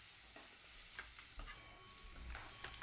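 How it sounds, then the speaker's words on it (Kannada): Tindora (ivy gourd) stir-fry stirred in a pan, a faint close sizzle broken by a few quick spoon scrapes and taps over under three seconds, no voices. "ಅದು ಕೂಡ ಚೆನ್ನಾಗಿ ಕೈ ಆಡಿಸ್ಬೇಕು"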